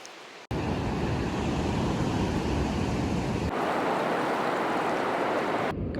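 Atlantic Ocean surf washes onto a smooth sandy beach at Mar del Plata, with a loud continuous roar and wind buffeting the microphone, then a softer wash of water toward the end.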